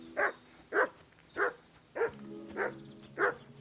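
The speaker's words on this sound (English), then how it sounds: "that is something he'll do, is he'll bark at stuff that he finds" A dog in the video game Kingdom Come: Deliverance 2 barks six times at an even, unhurried pace, moderately close, with quiet background between barks and no talking.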